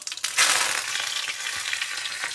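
Coriander leaves drop into hot oil with cumin for a tomato chutney, bursting into a loud, bright sizzle after a few crackles. A steady spattering hiss with scattered pops follows.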